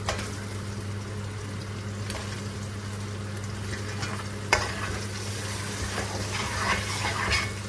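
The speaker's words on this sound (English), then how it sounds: "Gonna let this further cook for about 3 minutes till the tomatoes are nice and soft." Onion and tomatoes frying in a pan for chicken liver curry, with a steady sizzle under a low hum and occasional stirring scrapes, close and moderate in level, with no talking.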